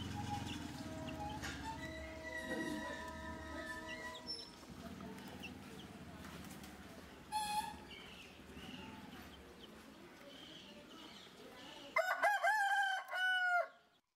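A small chick on a home backyard farm, with chicken clucks and a rooster-like crow rising loud near the end after a stretch of mixed background noise and some voices.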